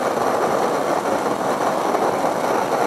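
A copper coil jet stove burning liquid fuel roars loudly and continuously at close range, a steady broadband rushing with slight pulsing and no voices.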